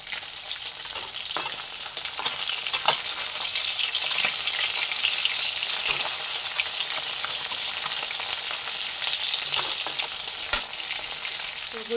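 Fish fries in a pan with a loud, continuous sizzle, broken by occasional spatula scrapes and stirring clicks, with no voices.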